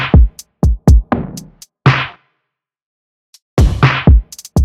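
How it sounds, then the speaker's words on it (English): Full RnB drum pattern with punchy kicks, snappy snares and crisp hi-hats in a syncopated groove, loud and close, stopping briefly for a gap before the beat returns. "Together, all the drums sound like this."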